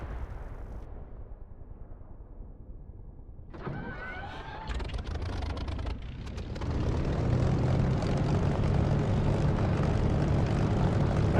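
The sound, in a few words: aircraft engine starting up in DCS flight simulator video game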